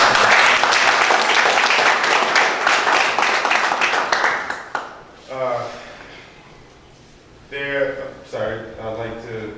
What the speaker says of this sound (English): Can we get another round of applause for my leader?